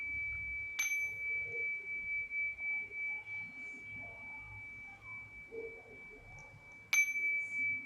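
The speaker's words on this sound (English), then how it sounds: "Chimes." Two bright metallic chime strikes several seconds apart, each ringing with a long sustained tone that hangs in the quiet space between them.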